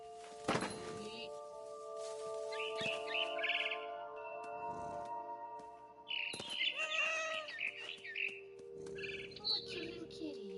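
Bird chirps and calls from a frightened bird in the video game What Remains of Edith Finch, bursts of bright tweeting and fluttering over a steady ambient game hum, with thunks and a person talking.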